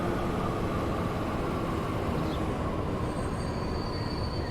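Train standing at a station in Transport Fever 2, a steady broadband rumble of rail cars with a faint high wheel squeal, continuous and loud for the whole stretch with no talk.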